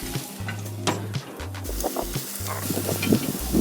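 Bacon-wrapped appetizers sizzle over the hot part of a grill, a crackling fry mixed with scraping and handling clatter, over a low steady hum and with no talking.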